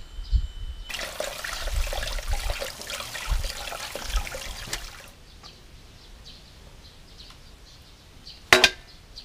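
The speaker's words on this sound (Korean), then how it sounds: "익었다 싶으면 찬물에 헹궈." Cold tap water runs steadily for about four seconds over cooked noodles being rinsed, then stops, followed by a short clatter near the end.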